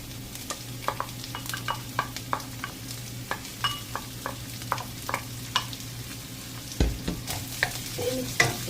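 Ground meat fries in a buttery pan while a utensil stirs it, giving a soft continuous sizzle broken by regular sharp scrapes and clacks against the pan, close up and with no talking.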